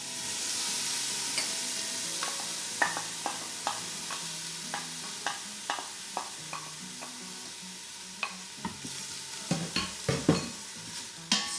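Diced onion sizzling in about a tablespoon of hot grapeseed oil in an Instant Pot on sauté, with steady frying hiss and repeated crisp spoon taps and scrapes as it is stirred, close up.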